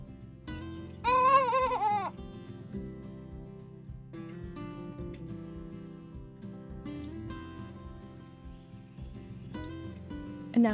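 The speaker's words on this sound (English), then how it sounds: "And now for the goats." Goats on a farm bleating, one loud close wavering bleat near the start followed by softer scattered calls over a quiet background, with a chirp near the end.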